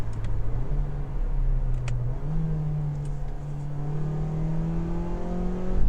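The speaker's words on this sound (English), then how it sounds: "Downshifts are fast though. You hear that?" A car engine hums under road noise as it blips and climbs in pitch during quick downshifts, steady and moderately loud from inside the cabin.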